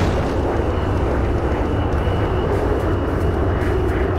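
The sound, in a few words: airplane taking off in the video game Enter The Matrix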